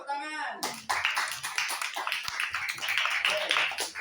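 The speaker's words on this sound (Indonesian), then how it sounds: "Kasih tepuk tangan semuanya." A classroom of students claps after a group presentation, a short burst of lively, uneven hand clapping that starts just after a teacher's voice and carries on to the end.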